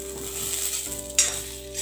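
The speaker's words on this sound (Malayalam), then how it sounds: "അതിലേക്ക് ഒരു 3 ടേബിൾ സ്പൂൺ മല്ലി, 4-5 ഉണക്കമുളകും കൂടെ ചേർത്ത് നന്നായിട്ട് നമുക്കിതൊന്ന് വറുത്തെടുക്കാം." Coriander seeds and a few dried red chillies dry-roasting in a pan for Kerala-style chicken varutharachathu, giving a soft close sizzle with stirring scrapes and one brief louder clink, no talking.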